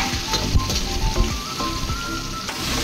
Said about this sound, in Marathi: आपण मटण तेल टाकलं की मटण टाकूया।